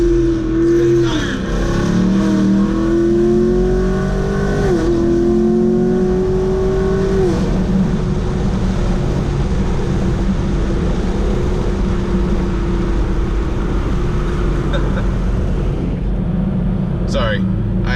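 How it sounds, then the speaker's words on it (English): A cammed Camaro SS accelerates on a wet road with its tires spinning, the engine revving up loudly through several rising pulls before settling into a steady roar, with a person talking over it. "My tires were slipping. The roads are still a little bit wet, so my tires were spinning all over the place."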